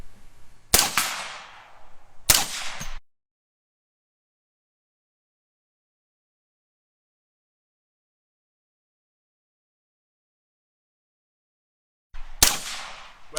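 Gunshots from a pistol fitted with a short, affordable Witt Machine silencer: two sharp, close cracks about a second and a half apart, then a long silence before a third shot near the end.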